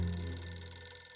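A telephone rings with a bright, electronic warble that starts strong and fades across about a second, heard from the car of a driver testing hands-free calling on the road.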